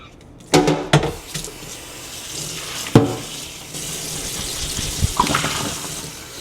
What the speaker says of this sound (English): Let's pour that water out.